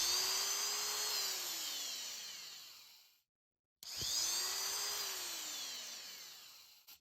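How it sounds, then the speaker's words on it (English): A Black & Decker Shorty drill, a 1/4-inch, 2-amp, 2,000 RPM corded drill with a paddle switch and a Phillips bit, whines steadily at close range, stops briefly, then spins up and runs again. "it's the Black & Decker called the Shorty drill"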